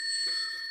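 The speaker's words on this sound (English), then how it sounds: "Ring the bell." A bright, sustained ring from a small bell, used as a sound effect, holds steady at close range for under a second.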